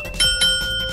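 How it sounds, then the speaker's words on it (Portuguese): A small bell rings twice in quick succession, bright sustained tones with a lingering ring, close and fairly loud. "Um sino."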